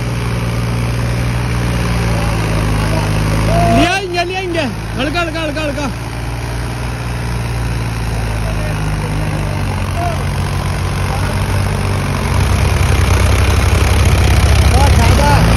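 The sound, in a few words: Mahindra tractor engine running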